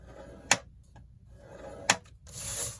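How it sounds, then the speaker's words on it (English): Two short, crisp scraping strokes of a scoring tool drawn across paper at half-inch marks, close and quiet, with a pause between them and a softer rustle of paper at the end. "So we're just gonna score at 1/2 inch."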